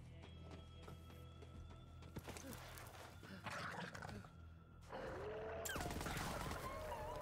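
TDR gun fire in Borderlands 3 against skag enemies, with quick bursts of shots amid clattering combat noise and creature sounds, under a voice.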